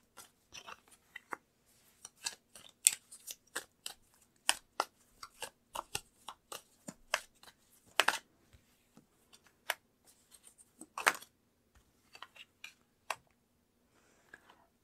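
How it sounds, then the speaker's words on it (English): Tarot cards being shuffled and pulled, heard as many sharp, quick card clicks and flicks in irregular bursts against a near-silent background, close to the microphone. "So I'm gonna pull out some tarot cards with it and see what's going on."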